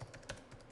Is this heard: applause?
no